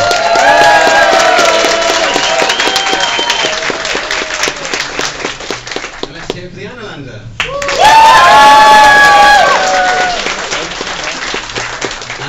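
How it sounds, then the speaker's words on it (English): Convention crowd at Fighting Fantasy Fest 2014 cheers for a contestant, loud applause with whoops and shouts that briefly dips, then surges again, with voices heard through it. "whoever gets the biggest cheer wins"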